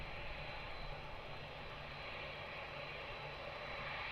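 A passenger airliner taking off at Lisbon Airport, heard as a broad, steady jet roar that holds evenly for several seconds, distant and faint, with no voices over it.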